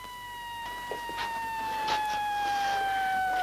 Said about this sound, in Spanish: ¿Oyen esas sirenas? Ya viene la patrulla por mí.